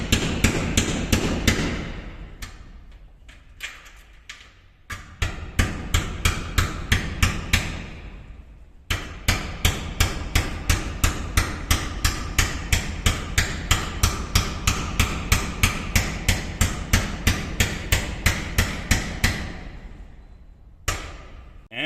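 VEVOR air hammer driving an expansion bolt into a metal building beam, a loud rapid series of sharp metallic blows in bursts, with short pauses before a long continuous run of hammering.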